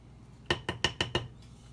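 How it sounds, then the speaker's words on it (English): A spoon stirring vanilla, almond extract and food coloring in a bowl for a homemade red velvet cake, heard as five quick, evenly spaced metallic clinks against the dish, close and clear. "I'm going to stir those in"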